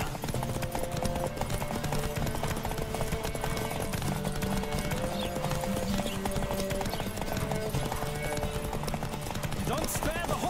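Horse hooves clip-clopping at a steady galloping rhythm in The Witcher video game, continuous and fairly loud, with game music and ambient sound underneath and occasional voice lines.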